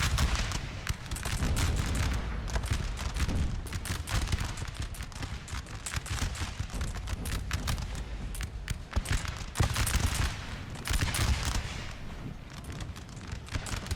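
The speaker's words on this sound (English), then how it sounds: "They're just shooting into the dirt." Dense, continuous musket volleys crackle across a battlefield in the video game Napoleon: Total War, ragged overlapping shots with occasional heavier booms, loud and unbroken with no talking.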